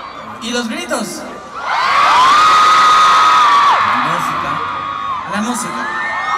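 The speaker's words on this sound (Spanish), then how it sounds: "¿Y los gritos?" A live audience at a 2010 concert in Mérida, Yucatán roars with loud sustained shouting, whooping and cheering, swelling into a dense wall of crowd noise before easing slightly.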